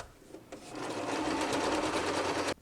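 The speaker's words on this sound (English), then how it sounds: "you're going to sew just a little bit off that seam line, catching the seam allowance, and just go all the way around" A sewing machine stitches around a waistband seam on crop pants, running in one steady, close whirring burst of about two seconds after a few soft clicks, then stopping abruptly.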